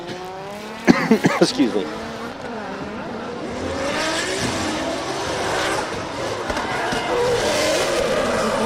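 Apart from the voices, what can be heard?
drift car on track, e-brake pull and tire squeal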